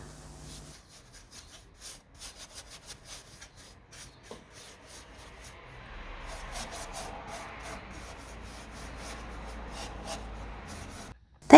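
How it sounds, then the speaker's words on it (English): Clear wax rubbed by hand onto restored wooden furniture, soft scuffing strokes at first that grow into a continuous close rubbing swish, ending in a sharp knock. "I'm using clear wax to protect the piece and give it very nice sheen."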